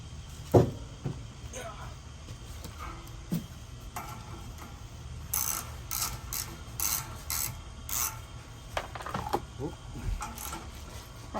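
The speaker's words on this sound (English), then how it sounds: "what we're gonna do now is pull the shroud off so that we can get down to the starter" Plastic shroud being pulled off a fire-damaged DR field and brush mower, with scattered clicks, scrapes, knocks and ratcheting rattles at irregular intervals, close by, and a voice talking at points.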